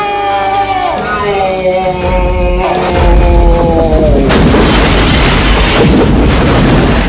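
A gun from a film fires at its highest setting, a deep booming blast that swells and rolls on for several seconds over a descending musical score, with no speech.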